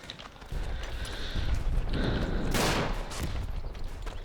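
Bullets and rifle gunfire in the First World War shooter Verdun, a distant, fairly quiet spread of shots with a sharper crack partway through, against a muffled battlefield background.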